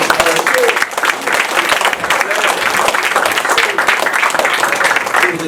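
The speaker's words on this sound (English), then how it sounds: "Give him a big round of applause." Audience at a lecture breaks into sustained applause, a dense steady roar of many hands clapping with crowd voices mixed in, lasting several seconds.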